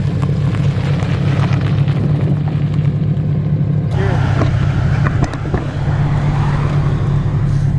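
A boosted Scion FR-S drives down a backroad with a loud, steady exhaust drone throughout and a few sharp cracks that could be backfires.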